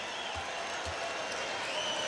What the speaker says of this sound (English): As Curry and Clay get the applause as they should.